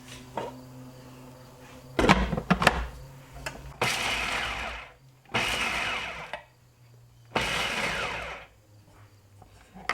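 A food processor pulses pumpkin seeds and other seeds for keto granola in short bursts, four or five whirring spurts of a second or two with pauses between, loud and close, with no talking.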